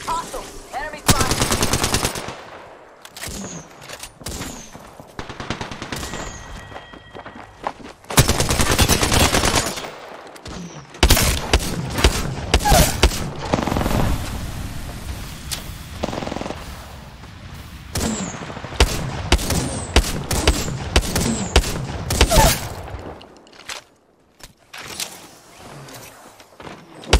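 Bursts of automatic gunfire in Apex Legends, loud rapid volleys broken by short pauses, with scattered single shots, footsteps and brief voices mixed in.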